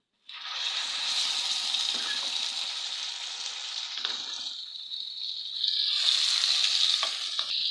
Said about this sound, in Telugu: పోపు అంతా బాగా వేగిపోయిందండి.